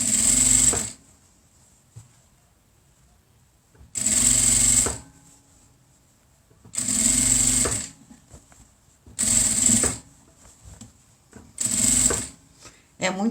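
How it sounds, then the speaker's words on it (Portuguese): A sewing machine stitches along the edge of a small fabric bag in five loud bursts of rapid whirring, each about a second long, separated by short pauses. "Vou fazer toda a costura aqui bem na margem"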